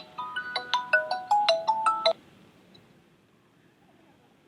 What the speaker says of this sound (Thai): มีโทรศัพท์